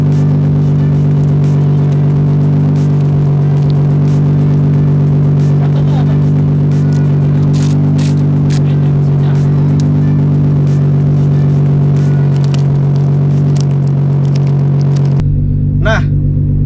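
Nissan GT-R R35 fitted with a Meisterschaft straight-pipe exhaust, a loud steady low engine drone with rumble and light revving, running continuously before cutting off near the end; people talk over it.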